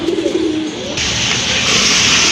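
Pigeons coo close by in a low, soft call, one clear coo at the start followed by steady hiss, with no talking.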